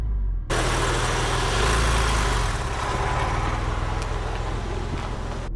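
A Porsche 911 engine runs steadily while the car backs up, a low, continuous idle-like rumble with mild vibration from start to finish after a brief quiet opening.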